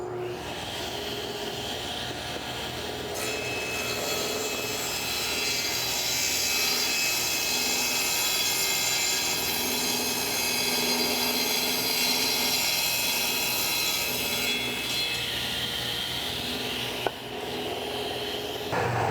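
A saw blade cutting through a slightly tapered wooden board, producing a continuous loud, rough whirring grind that holds steady throughout, with a short sharp click near the end.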